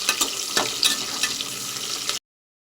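Chopped onions and green chillies sizzle and fry in hot oil for chicken biryani, a steady bright crackle with occasional stirring scrapes, close and loud, ending abruptly.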